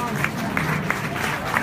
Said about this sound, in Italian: Un applauso per favore.